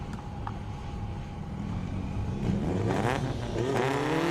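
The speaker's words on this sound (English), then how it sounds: "Oh, Audi with the early launch." An Audi S4 launches off the start line at an airstrip race, its engine note climbing steadily in a rising, revving sweep over the last couple of seconds, loud and close against a constant background rumble.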